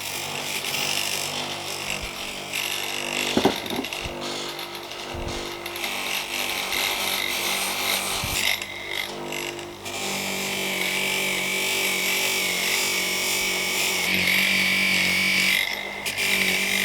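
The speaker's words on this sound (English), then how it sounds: "And let's go and do some buffing." A buffing machine polishes a metal armor gauntlet: a continuous close motor whine with shifting grinding and hissing as the metal presses against the wheel, broken by a few knocks and bumps, no voices.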